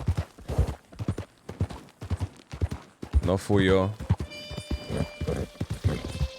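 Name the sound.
horse (mule-looking) hoofbeats in a video game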